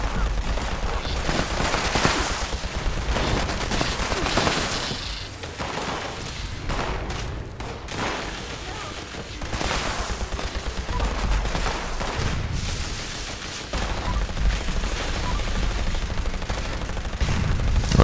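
Sustained video game gunfire crackles almost without pause, dense overlapping shots forming a loud continuous barrage with a few brief dips.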